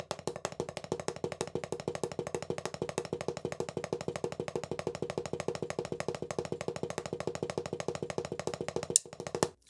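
Drum double strokes played with wrist and fingers, a fast, even stream of crisp hits at steady rhythm, close and moderately loud, running without pause for most of the span before stopping near the end.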